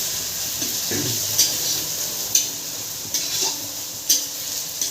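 Garlic cooked in a pan, giving a steady soft sizzle broken by four or five sharp scrapes and clinks of a utensil stirring against the pan.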